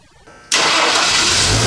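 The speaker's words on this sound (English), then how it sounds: "go ahead and fire up that engine" A car engine with a newly installed Clark fuel injection system cranks briefly, then catches abruptly and settles into a loud, steady running roar up close.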